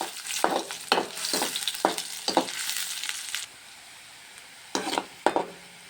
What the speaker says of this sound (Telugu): ఎర్రగడ్డలో పచ్చిమిర్చి వేసుకొని బాగా మిక్స్ చేయాలి